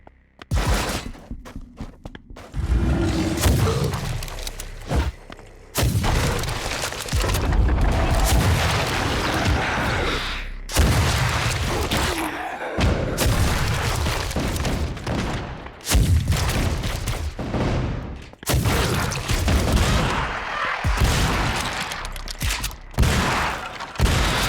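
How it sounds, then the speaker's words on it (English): A cannonball-launching weapon firing in the first-person shooter Project Warlock II, heavy booming shots in repeated bursts with blasts and impacts, loud and close, separated by brief quiet gaps. "This looks like a cannonball launching weapon."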